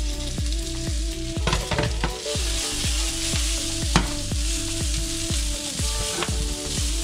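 Chives and green onions fry in a pan for char kway teow with Chinese sausage, cooked without a wok. A steady, loud sizzle runs throughout, broken by repeated scraping and stirring strokes, with no talking.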